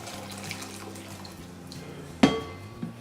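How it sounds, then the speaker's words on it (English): Warm water poured into a glass bowl in a kitchen, a soft trickling stream that ends with a sharp glassy clink as the vessel is set down, near and quiet with no talking. "So what we're going to do is just pour some warm water into the glass bowl"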